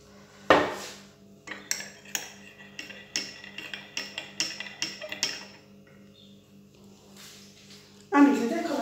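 A spoon sits in a cup as moka-brewed Neapolitan coffee is poured, with a rapid run of bright metallic clinks and taps against the cup, then a louder rush of pouring near the end.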